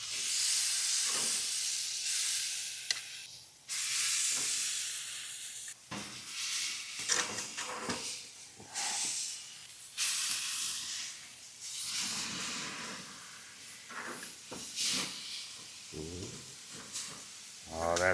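Meat sizzles loudly on a hot gas grill with a steady, dense hiss and crackle that runs throughout, punctuated by occasional pops and scraping, close up with no talking.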